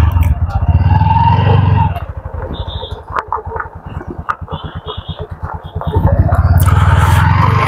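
Motorcycle riding along a road, a loud, close engine drone with steady low throb, easing off mid-ride into pulsing idle-like putter before building again; wind rumble throughout.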